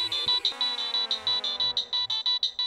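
A phone plays a bright, melodic ringtone for an incoming second call, a quick run of repeated beeping tones in a steady pulsing rhythm, loud and close with no talk.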